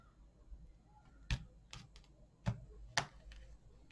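A deck of tarot-style cards being cut and handled, a few soft quiet taps and flicks of cardboard spaced irregularly over a hushed room.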